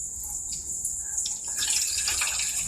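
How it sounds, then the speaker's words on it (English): Non-ethanol 90 octane gasoline is poured into the tank of a 1979 Lazy Boy B 400H push mower, a thin, close liquid trickle that turns into a fuller, gurgling flow partway through. "non-ethanol gas and pour that in there"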